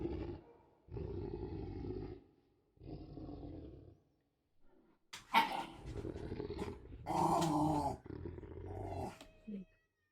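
Parker the dog growls and barks in several loud, rough bursts with short pauses between them, heard in a room during a tabletop roleplaying game session.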